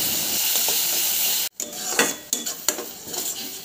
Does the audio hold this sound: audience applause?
no